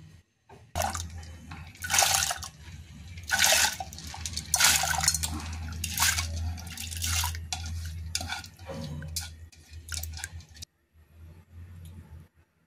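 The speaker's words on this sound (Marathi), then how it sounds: "आता आपण हरभऱ्याची डाळ धुवून घेऊन कुकरला लावू" Chana dal, or split chickpeas, is washed in water in a vessel, heard as repeated bursts of close sloshing and swirling with short drips and pauses between them; no voices.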